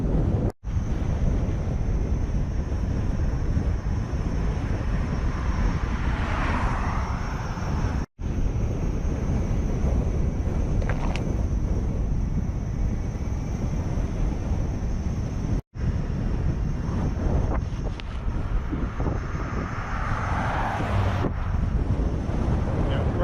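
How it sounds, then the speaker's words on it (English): Heavy wind buffeting the microphone during a blustery e-bike ride at about 14 to 15 mph, a loud continuous low roar throughout with brief dropouts, no talking. "Man, it's windy."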